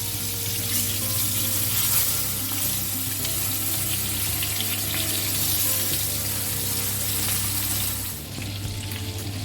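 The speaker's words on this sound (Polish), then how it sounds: "I tak z 2 stron musimy do złotego koloru podsmażyć" Pork ribs sizzle and fry in a pan, a loud, dense, continuous crackle of hot fat that holds steady throughout, with a low background hum and a slight drop in intensity near the end.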